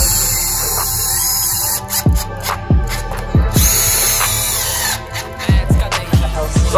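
A power drill drives screws into a shaker-style glass frame, with a steady whirring motor and several short bursts ending in clicks as each screw snugs down, close and fairly loud with no talking.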